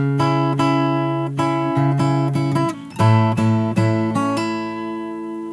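Fingerstyle acoustic guitar plays the opening verse line of a song slowly, plucked notes ringing clearly over held bass tones, with a shift of chord shape midway and no voices.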